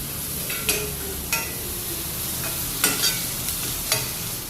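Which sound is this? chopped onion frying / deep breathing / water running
chopped onion frying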